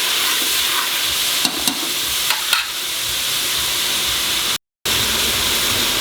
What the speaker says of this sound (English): Now put in the tomatoes, 2 finely chopped tomatoes